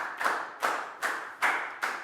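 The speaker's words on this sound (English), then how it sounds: "High five and a big round of applause for Lacau" Five evenly spaced, crisp hand claps ring out at a steady rhythm in a classroom, each sharp and close, with no voices between them.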